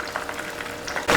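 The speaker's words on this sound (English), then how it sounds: "So just fry them till they are nice and golden brown in color" Tempura prawns frying in hot oil give a dense, crackling sizzle that runs steadily, with small bubbling pops, ending in a louder rush of spatter.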